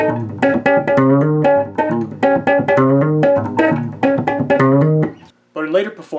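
Bass guitar plays the chord riff from a song, pitched up a half step. Fast, choppy, punchy strummed-and-tapped notes sound close and loud, and a short pause near the end is followed by a few more notes.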